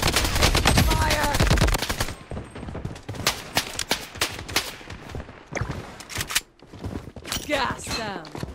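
Rapid automatic gunfire in the video game Blood Strike, a loud dense burst for the first two seconds, then scattered shots and clicks continue more faintly, with voices calling out over the action.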